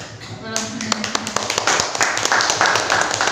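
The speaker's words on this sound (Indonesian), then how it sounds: "Tepuk tangan yang meriah untuk Ibu Eka" A hall audience applauds a speaker at a teaching event: dense, steady clapping starts abruptly and continues, mixed with a voice talking over it.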